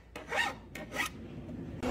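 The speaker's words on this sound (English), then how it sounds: "Wood edge meet grinder. It's not sanding, it's sculpting." Grinder shaping a wood edge: repeated rasping strokes, loud and close, each pass a swelling scrape followed by a brief pause.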